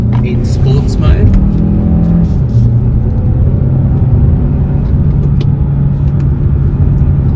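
A 2024 Hyundai Santa Fe seven-seat hybrid with a torque converter gearbox accelerates in sports mode: loud, steady engine and road rumble from inside the cabin, with a smooth rising drone and voices faintly underneath.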